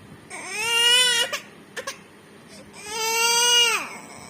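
A young child cries loudly in two long wailing bursts, with short sobbing catches of breath between them.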